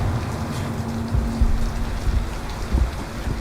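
Steady rain pours down in a dense, even hiss, with heavier drops pattering on a surface and a low rumble underneath.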